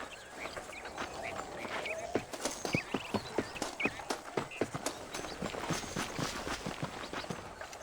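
Horse hooves clip-clop in the Red Dead Redemption video game, an even, rhythmic patter of close hoofbeats that grows clearer and louder partway through over a soft background.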